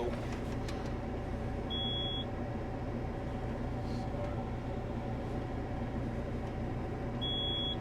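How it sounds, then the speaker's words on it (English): Warning beeps from a farm vehicle towing a seed drill: two short high electronic beeps several seconds apart over a steady, loud engine rumble heard from inside the cab. "That beeping's not annoying at all"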